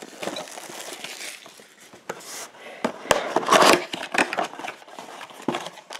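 Foil wrapper of a trading card blaster box being torn open, with dense crinkling and rustling close up in steady bursts, swelling into a louder crackle midway, with no talking.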